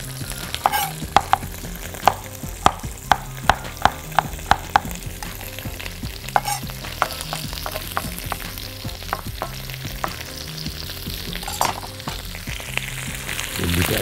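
Sliced zucchini and garlic stir-frying for a Chinese-style dish, a steady sizzle broken by a series of sharp clacks and scrapes as the pieces are tossed and turned in the pan, close and fairly loud with no talking.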